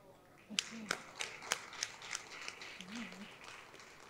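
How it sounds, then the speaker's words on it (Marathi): Scattered hand claps from an audience at a felicitation ceremony, a handful of sharp separate claps spread over a few seconds, fairly faint, with a voice briefly underneath. "तुम्ही असं प्रत्येक वाक्याला टाळ्या वाजवल्यात ना"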